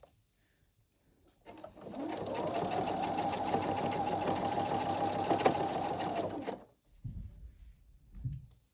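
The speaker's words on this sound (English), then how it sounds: "I'm following the stitches to make it the same size." A sewing machine runs steadily for about five seconds, stitching a Valentine pillow along an existing seam line, loud and close, then stops, followed by a couple of brief handling knocks.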